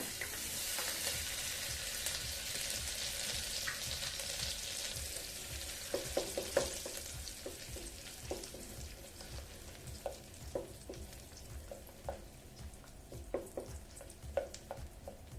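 Butter melting and sizzling in a pressure cooker at the start of a sweet pongal, a continuous soft frying hiss with scattered crackles and pops that grow sharper over time.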